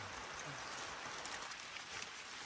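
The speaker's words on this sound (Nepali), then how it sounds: "आज चाहिँ पानी परेर चाहिँ एकदम बिजोक भएको छ" Steady rain falls at a campsite in Jiri, Nepal, a continuous close hiss of drops with no talking.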